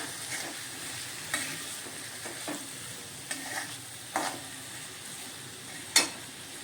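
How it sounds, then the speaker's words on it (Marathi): Salt and red chili powder are stirred into spices in a pan for a cauliflower dish: a soft, steady sizzle with a few light spoon scrapes and taps against the pan, close and unhurried. "चवीनुसार मीठ आवडीनुसार लाल तिखट हे पूर्ण आपण मिक्स करूया"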